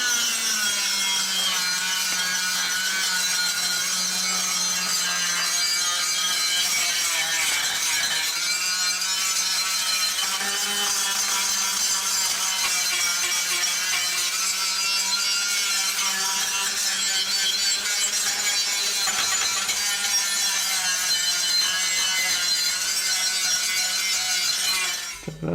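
A power tool fitted with a purple abrasive tip grinds rust off steel subframe mounting brackets from a Jaguar S-Type in a greenhouse, a continuous close, loud, steady abrasive whine with a low hum running the whole time and no talk.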